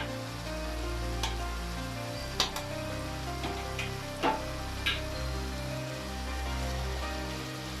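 Onions frying in a pan as a spicy dürüm filling is cooked, giving a steady soft sizzle throughout with a few brief clinks of stirring over a low cooking hum.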